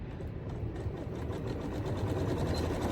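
A domestic sewing machine backstitches through the lining of a small quilted fabric tote, a steady close mechanical whir with rapid fine needle rhythm that holds level and swells slightly toward the end.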